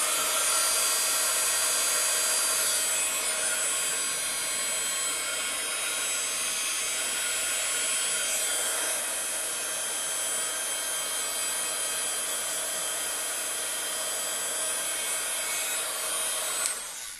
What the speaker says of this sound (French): je vais y donner un petit coup de heat gun